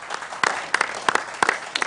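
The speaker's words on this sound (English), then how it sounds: "Please give them a round of applause." Scattered applause from a school quiz audience welcoming a competing team, a few distinct sharp claps standing out over thinner background clapping, fairly close and uneven.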